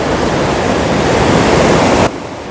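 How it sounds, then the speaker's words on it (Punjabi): Loud, steady roar of the Beas river rushing through open barrage gates at Harike headworks, close and continuous, then cutting to a quieter rush near the end. "ਗੇਟ ਇਸ ਲਈ ਇੰਨੀ ਆਵਾਜ਼ ਆ ਪਾਣੀ ਵੀ ਬਹੁਤ ਤੇਜ਼ੀ ਨਾਲ ਆ ਰਿਹਾ"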